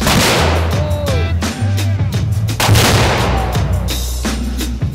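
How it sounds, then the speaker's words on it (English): Guns fired repeatedly at a shooting outing, a steady run of loud close shots and booms layered over wind noise and low rumble, with voices in the background. "Nick, fucking shooting guns."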